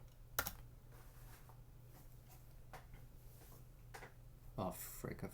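Light computer keyboard typing, a few scattered soft key clicks and taps under quiet room tone, with a louder burst of clicks near the end.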